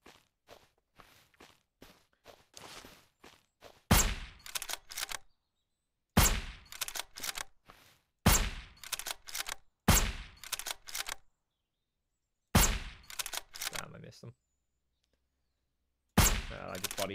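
Gunfire in the zombie game Surroundead: separated loud sharp shots and short bursts spaced several seconds apart, with quieter shuffling sounds and silent gaps between them.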